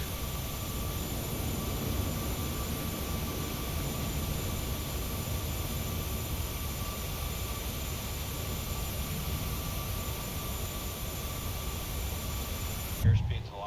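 An airliner's engines roar steadily during a climb in Microsoft Flight Simulator 2020, a constant broadband jet drone with a faint whine, ending in a brief click.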